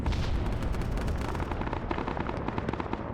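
Artillery fire in a Vietnam war game sounds as a heavy, continuous rumbling barrage, loud and dense, with repeated blasts blending into one roar throughout.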